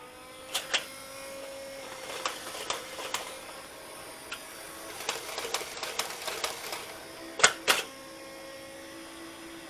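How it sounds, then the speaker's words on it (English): Mechanical clicking and whirring from the feeder mechanism of a Nerf CommandFire bullpup blaster, a scattering of sharp ticks and short bursts at close range over a faint steady hum, with no talking. "Not sure why you'd want to listen to that or watch the feeder working"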